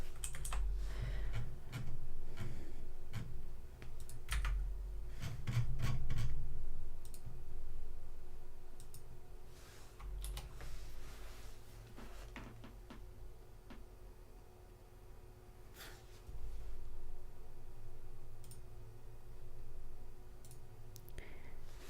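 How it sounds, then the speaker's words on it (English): Fast, irregular typing on a clacky computer keyboard during a coding session, with sharp clicks and heavier thocks close up and occasional pauses and low desk thumps, without speech. "You love the sound of clacky keyboard"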